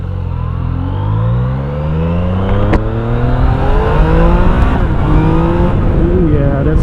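A Yamaha MT-09 or Kawasaki Z900 motorcycle in A mode accelerates hard up through the gears, its engine rising in pitch, dropping at each shift and climbing again, loud and close.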